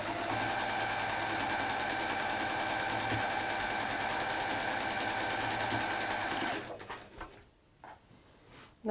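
A sewing machine hums steadily and close while chain piecing quilt block units, then stops abruptly, leaving faint handling noises.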